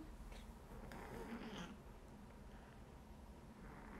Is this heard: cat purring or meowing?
yes